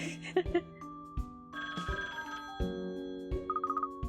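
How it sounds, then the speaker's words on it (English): A phone rings in the puzzle-adventure game Katrielle and the Millionaires' Conspiracy: a rapid electronic ring trill over a bouncy in-game music cue with plucked and chiming notes, fairly close and clear. "The phone is ringing."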